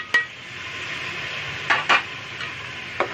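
Garlic and ginger stirred and fried in a pot on a low gas flame, a soft steady sizzle with a few sharp scraping clinks of a spoon against the pot, close and alone without talk.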